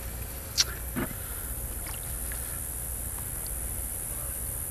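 A wooden pirogue canoe sits on water with faint lapping and a couple of soft paddle or hull knocks. Steady outdoor hiss runs underneath and nobody speaks.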